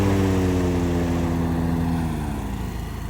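Hustler Hyperdrive and Bad Boy Rogue big-deck zero-turn mowers run together, a loud, steady engine drone with blade whine, close and continuous, easing slightly toward the end.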